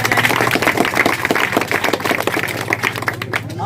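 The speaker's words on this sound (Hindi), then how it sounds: "इनके लिए ताली बजाइए।" An audience at a children's prize-giving claps steadily for a second-place winner, a dense, close patter of hands over a low electrical hum that thins out toward the end.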